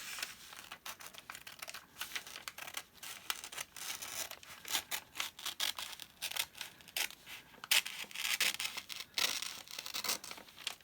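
Paper is cut along its top edge with a run of close, quiet crisp snips and rustling crinkles, irregular in rhythm and with no talking.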